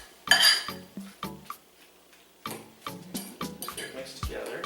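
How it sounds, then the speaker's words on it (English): A fork scraping and clinking against a bowl while mashing and mixing guacamole, a series of short bright taps and scrapes in uneven bursts, close and fairly quiet, with a voice speaking briefly. "I'm actually just mixing and looking for big chunks so I can get away with a fork"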